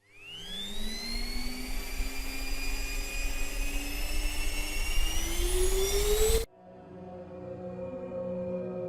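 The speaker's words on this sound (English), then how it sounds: "Neato, the smartest, most powerful connected robot vacuum on the market." Neato connected robot vacuum running, a steady whirring motor whine that rises in pitch as it spins up, loud and close, then cuts abruptly to a quieter hum.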